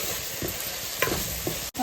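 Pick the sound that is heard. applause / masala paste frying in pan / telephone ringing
masala paste frying in pan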